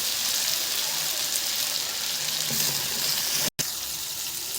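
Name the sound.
water added to burning masala while frying potatoes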